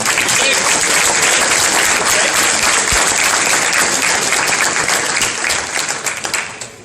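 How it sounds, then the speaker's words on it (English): Dense, loud applause fills a high school varsity football banquet room as seniors are introduced, steady and sustained for several seconds before tapering off at the end. "you can feel free, obviously, to give them a clap as they come up"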